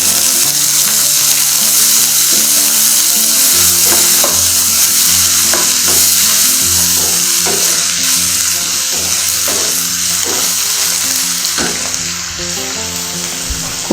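Carrots, beans and cabbage stir-fry for vegetable fried rice, producing a loud, close, continuous hiss and sizzle with repeated scraping stirs running throughout.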